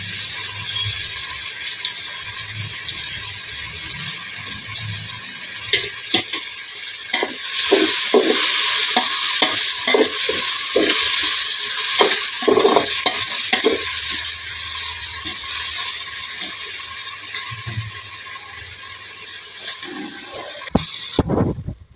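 Spices and vegetables for fried rice fry in a pan, with a continuous sizzle under rapid, close metallic scraping and clattering as a spoon stirs them, and bursts of stirring through the middle of the sequence.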